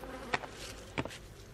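Honey bees buzz at a hive during a fall honey harvest, two brief close buzzes of insects flying past over a soft background hum.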